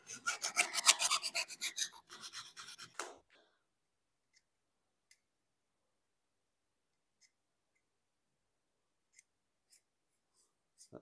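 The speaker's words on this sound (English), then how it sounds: "We just now need just to cut it before the radius starts with a hacksaw, just need to cut it there." A hacksaw cuts through copper pipe with about three seconds of fast, rhythmic rasping strokes, close and bright, before the sawing stops. Only faint scattered ticks follow in near silence.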